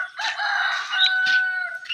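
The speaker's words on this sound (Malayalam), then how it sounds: "കോഴിക്കളൊക്കെ ചിക്കി പെറുക്കി തിന്ന." A rooster crows near a paddy field among foraging chickens, one drawn-out crow with short clucking notes around it, close and clear against a quiet background.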